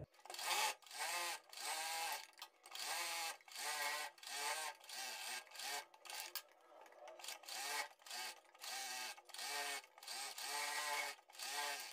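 A sewing machine stitches blouse fabric to its lining in repeated short bursts of rapid needle chatter, separated by brief pauses, close and fairly quiet.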